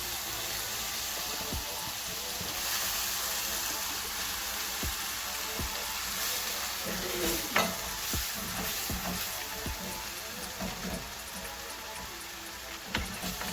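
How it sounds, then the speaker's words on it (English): Shakshuka with whole tomatoes sizzling in a hot pan: a steady, close frying hiss throughout, broken by occasional clicks and clatter from stirring. No talk. "after you get this all sauteed, we're going to add in our whole tomatoes"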